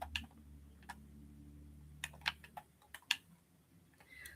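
Sparse, crisp mouse and key clicks come from computer gameplay in Minecraft, faint and irregular, a handful of sharp taps scattered over a quiet low hum.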